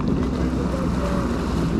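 A jet ski engine idles on open water off Labadee, Haiti, a steady low rumble mixed with wind buffeting the microphone and lapping waves, loud and close throughout.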